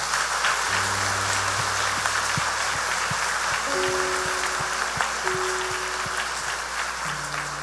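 A church congregation applauds during a sermon, a broad, steady wash of clapping with sustained organ or keyboard tones sounding underneath.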